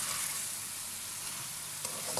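Chicken karahi masala sizzles and fries steadily in a pan while being stirred, a dense continuous crackle with an occasional scrape and no talk.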